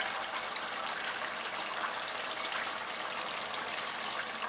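Water mixed with coconut juice pours steadily into a pot of Cambodian chicken curry soup, making a soft continuous trickling, quiet and close with no talking.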